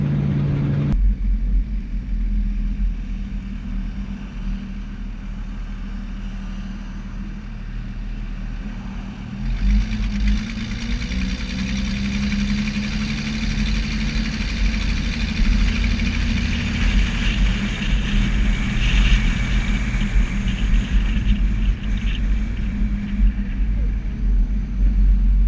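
A 1965 Ford Fairlane engine rumbling while driving on main roads, a steady low drone that swells as the car accelerates, heard from inside the car.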